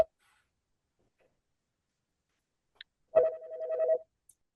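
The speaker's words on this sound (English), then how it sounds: "there is a phone that I cannot turn off ringing in this office" An office telephone inside a trailer rings once in a short, loud electronic burst after a few seconds of silence, with a faint click just before it.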